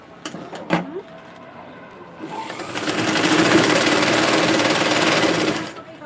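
A sewing machine runs steadily for about three seconds, stitching a dress, its loud even whir starting after brief talk and handling noises and then stopping.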